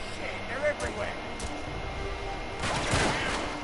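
Gunfire bursts from Uncharted 3: Drake's Deception crackle in short clusters over background game noise, with a heavier volley near the end, while a voice talks throughout.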